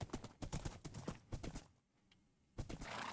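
Horse hooves clip-clop in quick bursts on a jungle path near water, with a quieter pause midway before the steady footfalls resume, close and fairly loud.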